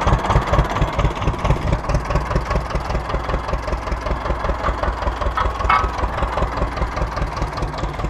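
A tractor engine idles during repair work while gears are being shifted. It is a loud, close, steady low-pitched chugging with a regular pulsing rhythm and no speech.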